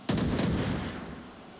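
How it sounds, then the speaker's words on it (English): A flashbang grenade bursts in the VR shooter Onward with a sharp double bang followed by a fading ringing tail, close and fairly loud. "Flashbang out"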